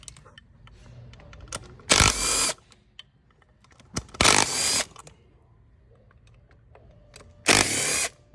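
Power tool taking bolts out of the oil filter housing on a 2011-2018 Jeep Wrangler JK, three loud short whirring bursts close by, separated by quiet clinks and handling noise.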